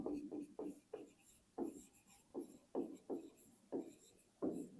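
A pen or chalk writing on a board during a maths lesson, a run of short scratchy strokes in an uneven rhythm, close and fairly quiet, with no talking.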